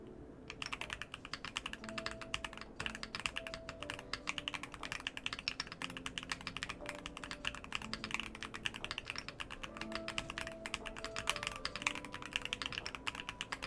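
Rapid, continuous typing on inductive keyboards, a Ducky One X Mini and an Epomaker MagCore 87, fitted with different keycaps: dense clacking keystrokes close up, steady and alone with no voices.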